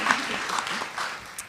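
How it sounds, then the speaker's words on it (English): Brief, fairly quiet applause from a conference audience thanking a panel, scattered clapping that thins out toward the end with faint crowd murmur. "Let's get them one more round of applause."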